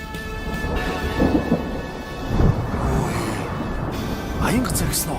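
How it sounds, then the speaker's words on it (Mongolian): Thunder rumbles in rolling waves during a heavy rainstorm, with steady rain noise beneath and people talking over the storm. "Аянга зэрэгсэн үү?"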